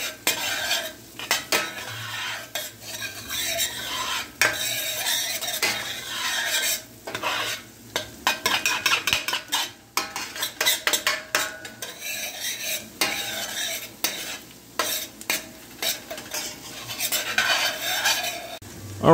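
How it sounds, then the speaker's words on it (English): A pan sizzles softly over low heat as a utensil stirs and scrapes against the metal in quick, irregular bursts, with occasional clinks of cutlery, while Thanksgiving food cooks. "Hear that sizzle?"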